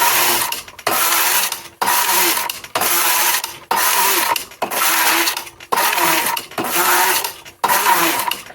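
A Superba knitting machine carriage is pushed across the needle bed knitting plain rows. The harsh, loud mechanical rasp comes back and forth in eight or nine even passes, with a brief pause at each end.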